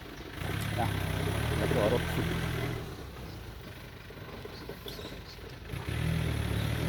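A Yanmar EF514F tractor engine hums while plowing a muddy rice field, its steady low drone rising and falling, loud at the start and end and quieter in between.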